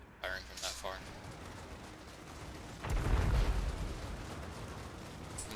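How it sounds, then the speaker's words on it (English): A Gyro Bomber fires from far off in a Total War: Warhammer battle, giving a few muffled distant bursts and a rumbling boom amid battlefield din. "it's the Gyro Bomber firing from that far."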